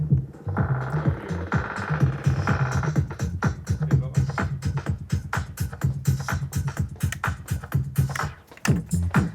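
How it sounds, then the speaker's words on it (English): Pioneer RMX-1000 effects unit applying a vinyl break to a playing track: a rhythmic beat that stutters and slows, dipping to near silence before picking back up, heard alone and close. "Now what you heard there was a vinyl break"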